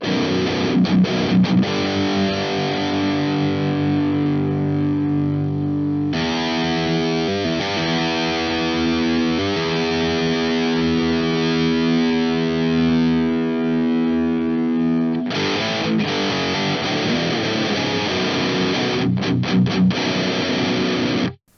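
An electric guitar through an amp simulator plays sustained chords and riffs with a slightly driven, processed tone, heavy pedal switched off, continuously and with no talking.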